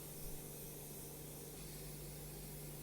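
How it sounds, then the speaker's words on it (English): Matte finish clear coat sprayed onto wood snowmen, a continuous soft aerosol hiss held steady and close throughout, with no voices. "Now I'm just using a matte finish clear coat on here, and I'm just applying one medium coat."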